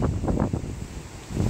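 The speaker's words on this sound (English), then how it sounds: "Today is too windy, but still it's okay." Wind gusting across an outdoor vegetable garden nursery, buffeting the microphone in loud, rumbling bursts that swell and fade, with a short lull before another gust.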